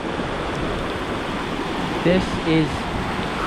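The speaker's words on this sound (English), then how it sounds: "take a look at the river right now. I have never seen it" A river swollen high and flooded during the Philippine rainy season rushes in a steady, dense roar that fills the whole clip, with a man's brief speech rising over it near the end.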